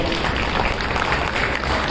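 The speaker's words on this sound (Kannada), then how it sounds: "ಚಪ್ಪಾಳೆ ತಟ್ಟರೆ ಬರ್ತಾರೆ ಜೋರಾಗಿ." An audience at a student memory demonstration claps together, a dense, continuous patter of many hands that fills the whole moment without a clear break.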